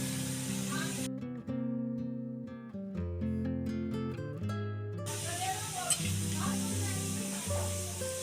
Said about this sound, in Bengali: সরষের তেল গরম হয়ে গেলে আমি 1 চামচ জিরে দিয়ে দিলাম।